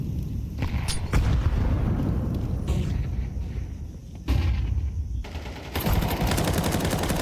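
Gunfire in the video game Counter-Strike 2 during an IEM Cologne major match, with loud dense automatic bursts and sharp single shots coming in waves and a few heavy booms.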